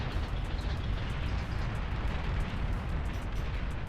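Bombers in the video game Beyond All Reason set off a continuous, dense rumble of explosions, a heavy, steady roar with faint crackling layered on top throughout.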